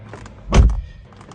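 A car door opens with a single loud, close thunk and a short rattling release, then a quiet background.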